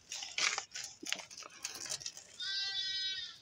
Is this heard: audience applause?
no